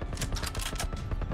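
Rapid automatic gunfire in The Last of Us, a dense continuous burst of close shots with no pauses and no talk.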